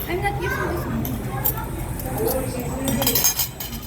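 Spoons and cutlery clink against dishes at a family meal in Lipa, bright scattered clinks sounding under steady conversation from several people at the table.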